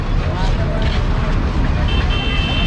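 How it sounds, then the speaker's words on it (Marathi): Busy main-road traffic near a crowded pilgrimage gathering in Buldhana, a dense continuous rumble of vehicles with crowd babble throughout, loud and steady with no single vehicle standing out. "मुख्य रस्त्यावर एवढं ट्रॅफिक आहे की आम्ही"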